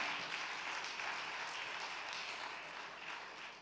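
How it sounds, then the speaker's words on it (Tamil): A church congregation at a Sunday evening service claps together, a soft, fairly distant wash of applause that slowly fades toward the end. "கைத்தட்டுங்க பார்க்கலாம், கைத்தட்டுங்க பார்க்கலாம்"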